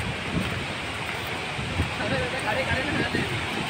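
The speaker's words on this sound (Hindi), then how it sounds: "हो कितनी मस्त हवा चल रही है, ठंडी ठंडी।" Cool wind blows steadily outdoors at Brahaspati Kund waterfall in Madhya Pradesh, a continuous broadband rush with gusty swells and buffeting on the microphone throughout, with speech over it.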